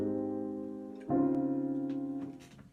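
MIDI piano processed to resemble a real upright-style piano, sounding a sustained chord, then a second louder chord struck about a second later and left ringing, with a faint change near the end.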